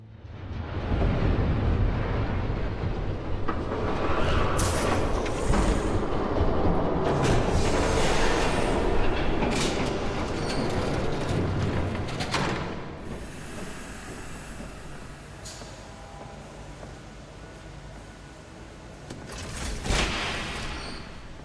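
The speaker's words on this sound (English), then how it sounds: "There's a train coming." An approaching train in Batman: The Telltale Series game, a loud broad rumbling roar that fills the scene continuously, swelling and easing with a brief rise near the end, with no talking over it.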